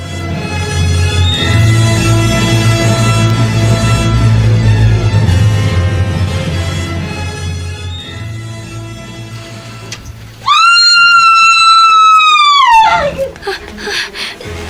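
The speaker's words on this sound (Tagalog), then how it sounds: "Sigaw ng babae." A woman lets out a single long, piercing scream that holds loud for about two seconds and then falls away. Brooding music plays before it.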